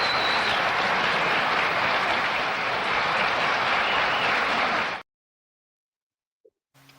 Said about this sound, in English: It was a pre-recorded applause.